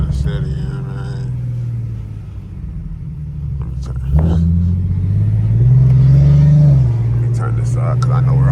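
Infiniti G37 cruising through city streets, a steady low engine rumble that swells as it accelerates midway, close and continuous, with a voice speaking over it at times.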